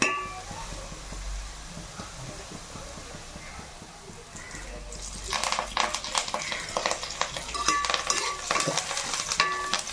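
Curry leaves hiss and crackle as they hit hot oil with already-browned onions for a Nellore fish curry, stirred in a pan: quiet frying at first, then louder sputtering and scraping.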